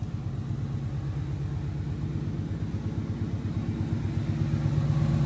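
A Fox Body Mustang with a swapped GT500 engine runs at idle, its exhaust giving a deep, steady, pulsing rumble that stays close and loud throughout with no talking.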